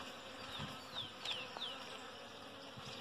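Italian honey bees (Apis) buzz steadily at a water tank during a bee rescue, several individuals passing close with rising and falling whines over a continuous low hum.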